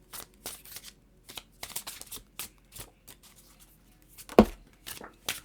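Tarot cards being shuffled by hand to draw a single card, giving a series of quick, close riffling and slapping bursts in an irregular rhythm, with no talk.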